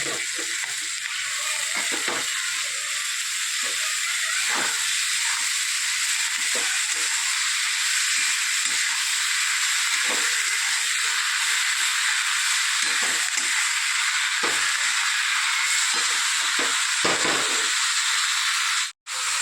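Fresh amaranth greens hit a hot pan and sizzle with a loud, steady hiss, dotted with scattered pops and stirring knocks, close by and without a break.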